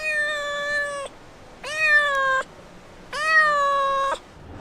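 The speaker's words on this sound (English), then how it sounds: "this kitten that we saw when we were climbing up the mountain." A kitten met while climbing a mountain meows three times, each cry drawn out for about a second with short pauses between, clear and fairly close, and no one speaks.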